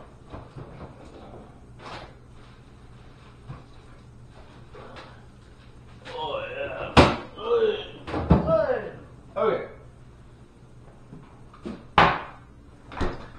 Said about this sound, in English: let me look in the drawer